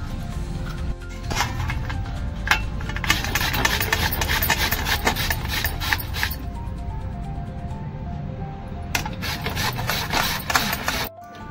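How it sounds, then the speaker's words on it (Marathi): Sweet potato being grated by hand for a fasting-style basundi, a steady rough rasping scrape repeated in quick strokes, close and fairly loud, with brief pauses and no talking. "सुरुवातीला आपण रताळी किसून घेऊया."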